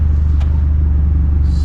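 A car engine idles with a steady, loud low rumble close by, continuous throughout.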